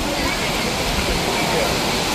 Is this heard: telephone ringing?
no